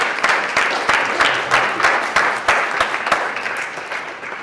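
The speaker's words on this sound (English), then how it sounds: "Give them a round of applause as they come on up here." An audience applauds two volunteers coming up on stage at a motivational speaking event, with loud, close clapping in an uneven rhythm that thins slightly toward the end.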